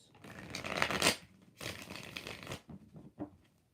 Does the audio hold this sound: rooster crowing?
no